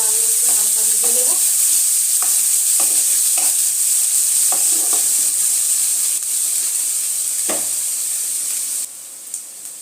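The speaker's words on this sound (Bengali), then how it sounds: "পেঁয়াজটা হালকা করে লাল লাল করে হালকা ভেজে নেব।" Chopped onions frying in hot oil for Bengali dahi begun, a loud close hiss with repeated spatula scrapes and stirs, the sizzle dropping and thinning sharply near the end.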